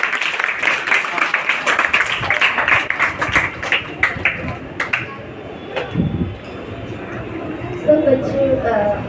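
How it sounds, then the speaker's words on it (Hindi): Children in an audience clap together to welcome a guest, a dense burst of applause with some chatter, then fading into talk and scattered claps near the end. "एक बार फिर से ताली बजा कर स्वागत करें मैम का।"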